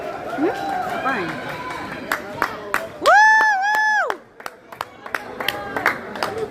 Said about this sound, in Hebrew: כפיים, כפיים. כפיים.